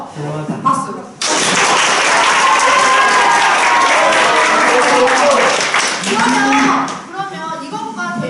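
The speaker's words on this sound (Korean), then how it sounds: "대단하다. 박수." Students burst into loud applause in a classroom, a dense burst of clapping lasting several seconds after a brief voice. Children's cheers and calls ride on top before it tapers, followed by more talk.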